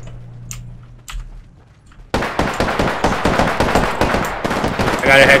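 Gunfire in Apex Legends: quiet at first with a few isolated sharp shots, then a loud, sustained burst of rapid automatic fire that keeps rattling without pause to the end.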